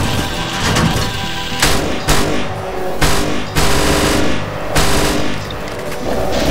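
Rapid automatic gunfire from a gun in the video game DOOM: Hideous Destructor, loud and close, sustained bursts with brief breaks throughout.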